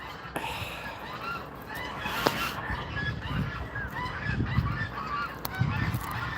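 Geese honk repeatedly outdoors on a farm in Dikili, İzmir, feeding and bathing, at moderate distance, overlapping calls rising and falling against a steady background hum.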